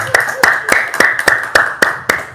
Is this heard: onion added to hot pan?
no